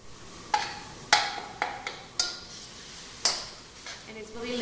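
Lean ground beef for spring rolls cooks in a pan while a utensil stirs it, giving about six sharp metallic clinks and scrapes against the pan over a quiet background.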